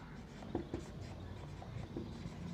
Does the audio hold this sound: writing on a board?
yes